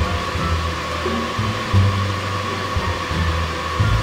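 A small electric nail dryer blows with a steady, close whirring hum that holds constant throughout.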